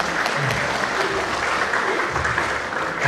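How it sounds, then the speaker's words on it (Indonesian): Audience applause for Romo Trianto at a Catholic marriage seminar, steady dense clapping from a crowd sustained throughout, with a faint murmur of voices underneath. "kita tepuk tangan dulu buat Romo Trianto"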